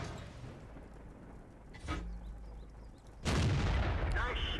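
Tank cannon fire in World of Tanks: a booming shot with a long rumbling tail, preceded by a softer thud, heard over faint game ambience.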